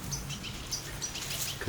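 Two goldfinches at a garden feeder on a windy day, giving brief high chirping calls in short bursts, faint and somewhat distant, ending with a low thump.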